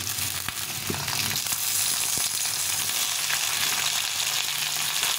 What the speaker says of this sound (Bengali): বেগুনগুলো দিয়ে একটু নেড়ে করে নেব